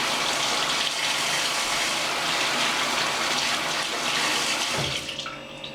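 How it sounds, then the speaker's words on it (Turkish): A cucumber is rinsed under a running kitchen tap, a steady close gush of water splashing over it that continues for about five seconds, then cuts off abruptly and leaves near quiet. "Salatalığı da güzelce yıkayayım."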